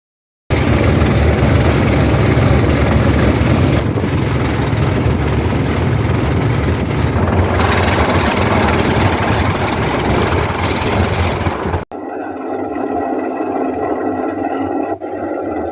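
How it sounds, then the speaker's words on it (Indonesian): A motorboat engine drones steadily and loudly while heading across calm water toward Tegal Mas island in Lampung, then the sound drops abruptly to a quieter, thinner hum near the end. "kapal motor menuju ke tempat"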